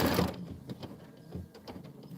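An embroidery machine stitches a winter design in short, uneven bursts of mechanical chatter and whir, moderately close and fairly quiet, with no talking.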